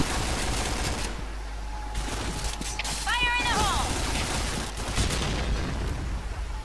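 Rapid bursts of gunfire rattle through a firefight in the first-person shooter PB, dense and continuous across the clip, with excited voices talking over the shooting.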